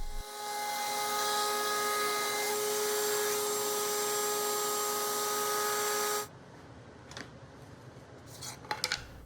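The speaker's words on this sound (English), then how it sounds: "My first step here is routing 1 inch from the top edge and a 16-inch deep on the sides, front, and back." A router table cuts grooves into the top edge and sides of a small wooden toolbox, a loud, steady, close whine lasting about six seconds before cutting off, followed by quiet handling noises.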